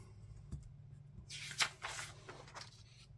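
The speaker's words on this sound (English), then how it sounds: "Let me get these cards shuffled" A deck of playing cards is riffled and shuffled for a football board game, giving a quiet, close burst of crisp flutters and taps in a near-silent room.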